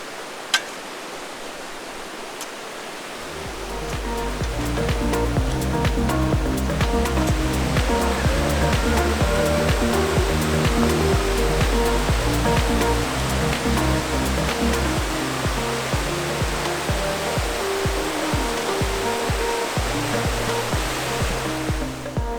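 A waterfall in Austria roars steadily and close, a dense rushing wash that swells louder after the first few seconds and then holds, with no voices.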